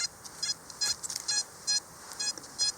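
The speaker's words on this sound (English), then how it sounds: "I'll show you what it sounds like in my metal detector." A metal detector sounds high, electronic beeps while sweeping over an underground lead pipe, short bursts repeating in an irregular rhythm over a quiet background.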